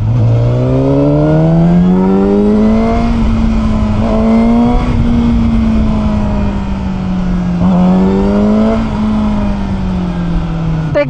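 A Kove 450RR inline-four motorcycle engine howls continuously at high revs, pitch climbing and settling in smooth sweeps through mid to high RPM, loud and close throughout.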